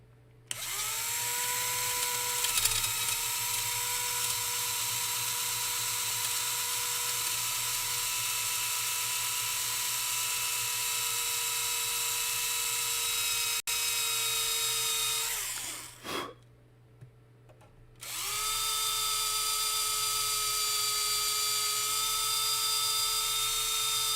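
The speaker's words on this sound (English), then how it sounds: "Not bad for a little battery operated drill." A small battery-operated drill whines steadily at high speed on metal, cutting out briefly near the end with a dip and near-silence before spinning back up, loud and close with no talk.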